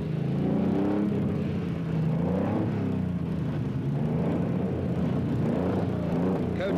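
A Peugeot rally car in the 1977 East African Safari Rally pulls away with a steady, continuous engine rumble and whir, rising and falling slightly in pitch as it drives off, fairly loud with no voices.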